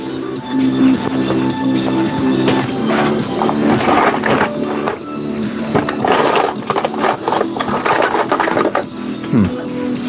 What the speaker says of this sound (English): Let me get this hole drilled out real quick